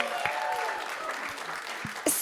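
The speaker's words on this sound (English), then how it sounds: "Give him a round of applause" Applause from an audience at a farmers' event during the Sundance Film Festival, a steady wash of clapping with voices speaking over it.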